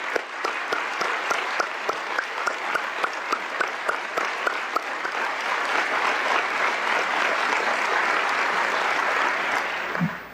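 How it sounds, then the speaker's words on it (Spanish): A large assembly in a session hall applauds teachers with loud, dense clapping that holds steady for about ten seconds, with a few sharp individual claps standing out early before it fades at the end. "Pido un aplauso para todos los que se hicieron maestros, que es hacerse creadores."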